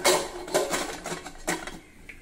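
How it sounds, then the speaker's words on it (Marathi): A pressure cooker lid is fitted and locked shut over wheat kheer in a home kitchen, making a quick run of close metallic clanks and clicks over about two seconds. "यावर झाकण ठेवू आणि कुकरचं झाकण बंद करून घेऊया"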